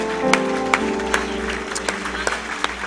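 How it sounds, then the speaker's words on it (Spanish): Church congregation applauding at a worship service, a burst of scattered, uneven clapping that fills the room for a few seconds with voices underneath. "Dale un aplauso fuerte al Señor."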